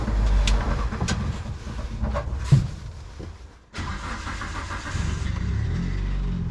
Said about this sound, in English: So right now we're about to take the car out, and the goal is not to go fast.